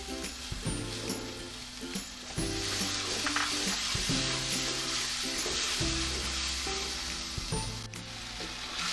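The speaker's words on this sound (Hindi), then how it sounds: "अब जनाब मैंने इसमें डालना है ये 1 कप के करीब दही।" Qeema masala with kachnar sizzles in a pan as about a cup of yogurt goes in, with steady frying and repeated stirring scrapes in an uneven rhythm, close and fairly loud.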